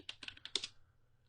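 Quick burst of about eight to ten key presses on a computer keyboard as a password is entered at a superuser prompt, close and crisp, then trailing into quiet room hum.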